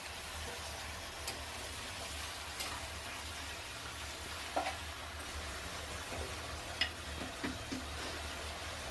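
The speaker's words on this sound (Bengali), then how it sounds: "এবারে মাংসটা অ্যাড করে দিলাম, ভালো করে মিক্স করে দেব" Chicken pieces stirred into hot oil for a spicy country chicken curry, a constant sizzle of frying with scattered soft clicks and scrapes of the spoon against the pan.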